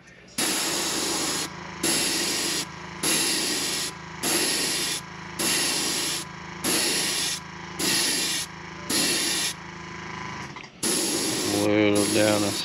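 Spray paint applied to a fishing lure in a craw pattern: repeated short hissing bursts, about eight in an even rhythm, each a second long, followed by a longer continuous spray with a faint mechanical hum.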